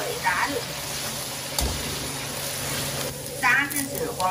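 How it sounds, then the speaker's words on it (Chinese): Chicken gizzards deep-frying in hot oil, a soft continuous sizzle under a voice that talks throughout, with a short clunk partway through. "油热后把鸡胗下锅炸"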